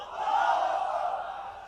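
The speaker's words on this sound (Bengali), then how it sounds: "তাকবীর পড়ুন, লিল্লাহে তাকবীর।" A large crowd at a Chittagong open-air religious sermon gathering shouts a takbir chant in unison, a loud, sustained roar of many voices swelling and fading over a couple of seconds.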